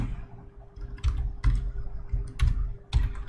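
Someone types on a computer keyboard: irregular clusters of crisp key clicks and taps over a low, steady background hum, with no speech.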